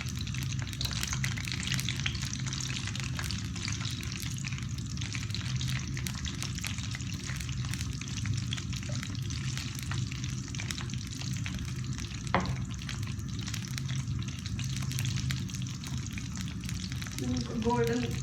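French fries frying in oil make a continuous, even bubbling sizzle held at moderate level, with a faint clink near the middle and light stirring near the end.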